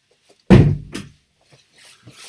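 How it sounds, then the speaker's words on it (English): A door is pushed shut with one sharp, close thud followed by a smaller knock as it settles, then quiet faint rustling. "I've got to close this door."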